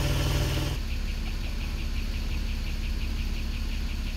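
Porsche 997 flat-six catching and settling into a steady idle, a short loud burst at the start giving way to an even, continuous engine hum with no talk.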